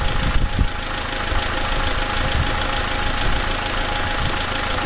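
A Dacia Logan dCi diesel engine with Delphi injection idles at a steady, even rumble, with a faint regular knock running through the low hum and no voices.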